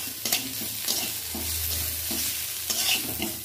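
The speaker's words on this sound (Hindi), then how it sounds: "प्याज को 3-4 मिनट फ्राए करेंगे" Chopped onions frying in hot oil, a steady close sizzle under continual stirring and scraping of a spatula in the pan, with no talking.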